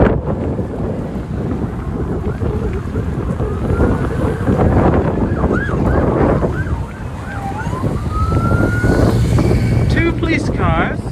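Wailing police sirens rise and fall in the distance, mixed with heavy wind buffeting the microphone and passing traffic noise.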